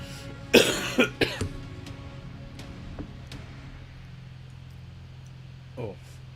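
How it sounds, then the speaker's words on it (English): A person lightly ill with a lingering cough gives a short burst of several close coughs early on, then a quieter single cough near the end, over a faint background hum. "Yeah, so that cough's still there."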